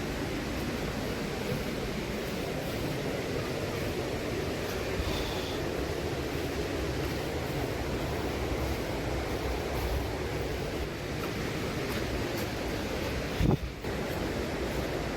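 Steady broadband rushing of Meenmutty waterfall near Ponmudi hill station in Trivandrum, a continuous roar of falling water holding even throughout with no voices.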